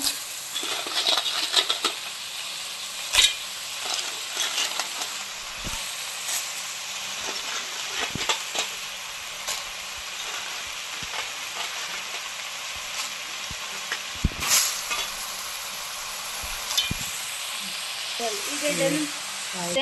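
Mangalore-style clams (marvai) sizzling and frying in a pan while being stirred, a steady bright hiss with occasional sharp clinks of the spoon against the pan.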